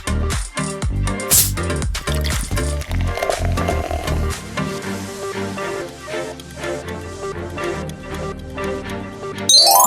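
The Coca-Cola jingle: busy, bright music with quick ticking percussion and fizzy, bubbly textures, played loud and dense throughout with no talking.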